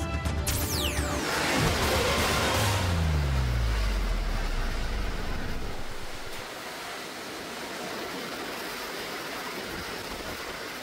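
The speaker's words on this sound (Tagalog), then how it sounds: "Malakas na hangin at ulan ang bumungad sa mga residente ng Masbate" Loud, blustery typhoon wind roars against the microphone with a constant wash of rain in Masbate, Philippines, briefly swelling before settling into a steady storm noise. No voices.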